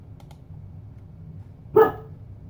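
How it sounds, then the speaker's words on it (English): Pet dogs indoors bark at a mailman outside, one short loud bark or yelp standing out over a low background hum, with faint clicks of keyboard typing earlier. "You might hear my dogs in the background. They seem to have noticed the mailman is outside."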